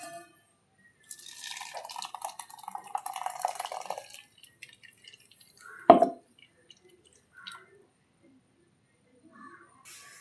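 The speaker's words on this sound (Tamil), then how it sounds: "இப்போ வடிகட்டிக்கலாம்" Freshly ground juice, blended in a mixer with water, is poured through a strainer, with liquid trickling and dripping for a few seconds, then one sharp plop or clatter and a few faint drips in quiet.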